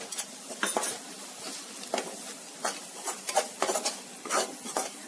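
Turmeric and red chili powder being stirred into a pan for matar paneer, with repeated scraping and clinking strokes of a spoon against metal over a light sizzle, close and uneven in rhythm, no voices.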